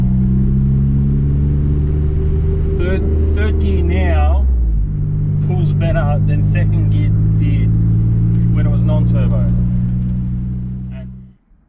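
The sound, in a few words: turbocharged VG30 Nissan Navara accelerating in third gear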